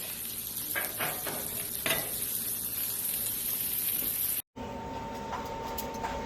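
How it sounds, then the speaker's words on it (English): Vegetables simmering on a Blackstone griddle give a steady, close sizzle and hiss with light stirring scrapes, broken by a brief cut near the end before the frying resumes. "So just let them simmer here for a while we get everything else cooked up."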